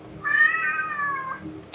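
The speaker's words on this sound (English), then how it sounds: "You can hear my cat who loves to talk." A pet cat gives one long, drawn-out meow close by, clear and fairly loud in a quiet room, followed by a soft click.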